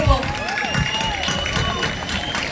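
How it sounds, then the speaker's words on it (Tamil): Audience at a live event applauding with a dense wash of clapping, and a voice speaking over the crowd noise. "பிளாக் பாண்டி அவர்களுக்கு ஒரு சந்தோஷமான கைத்தட்டலை கொடுப்போம்"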